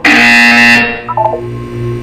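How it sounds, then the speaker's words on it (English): A loud electronic buzzer from the Portal 2 video game sounds once for under a second, followed by a short chirping electronic tone and low ambient hum. "When you hear the buzzer, look down at the floor."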